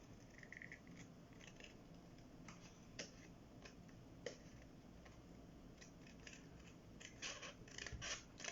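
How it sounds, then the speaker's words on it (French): Scissors snipping rounded corners into a paper card during a card-making craft, giving faint, scattered clicks and snips, a few louder cuts near the end, over quiet room noise. "on va venir avec le ciseau et vous allez découper là vos arrondis"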